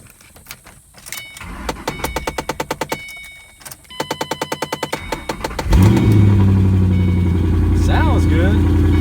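A 2015 Corvette Stingray with about 100,000 miles cranks through two bursts of rapid starter clatter, then catches and fires into a loud, steady idle with a rev, heard up close.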